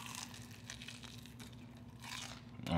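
Crunchy fried chicken wings bitten and chewed up close, with faint crackling crunches and tearing sounds at a low level and no talking.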